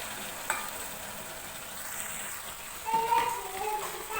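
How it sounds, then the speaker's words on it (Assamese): Boiled taro and potatoes fry with tomatoes in a pan, giving a steady close sizzle with scraping stirs and a few clinks of a utensil. "এইখিনি এনেদৰে মই অলপ সময় ভাজি ল'ম"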